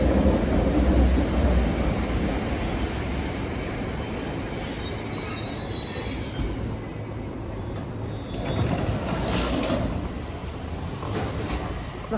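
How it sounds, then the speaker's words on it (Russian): A P2D electric commuter train on the MCD line rolls into a station, its wheels rumbling and squealing steadily throughout, loud and close with a high metallic whine above. "вон она едет, наша П2Д, которая довезет нас прямиком в Серпухов"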